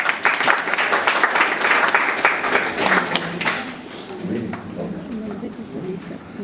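A union meeting audience breaks into dense applause, loud and steady for about three seconds before thinning out, with a few scattered claps lingering under talk afterward.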